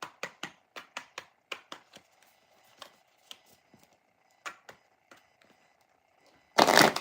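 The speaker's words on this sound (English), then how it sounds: "Let me shuffle it again." A rapid series of crisp riffling oracle card shuffles, close and dry, with pauses between bursts, ending in a louder rustling flurry.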